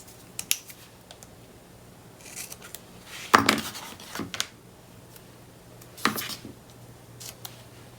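Scissors snip through paper for a papercraft nature notebook, a few close, crisp cuts spaced several seconds apart with faint handling rustle between them, and no talk.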